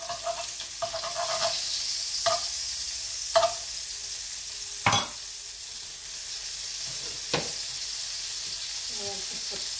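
Butter sizzles in olive oil in a frying pan, a steady close crackling hiss broken by several sharp clinks and scrapes of a utensil.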